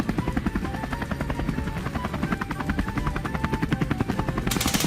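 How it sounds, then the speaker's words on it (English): A helicopter's rotor thumps in a fast, steady rhythm, loud and close, with a continuous engine roar underneath. "helicopter,"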